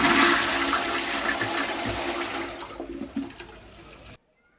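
A motorhome toilet flushed from a ceiling button lets out a loud rushing whoosh that tapers into gurgles and then cuts off abruptly, with no talking.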